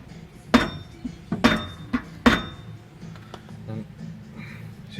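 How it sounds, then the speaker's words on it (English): Three sharp metallic hammer blows ring out on a Nissan 350Z rear wheel bearing assembly, evenly spaced within about two seconds, followed by lighter clinks and faint workshop noise. "start tapping it like that."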